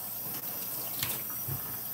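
Tap water runs steadily into a sink while an aloe vera leaf is rinsed, a loud continuous splashing rush with small bumps of handling.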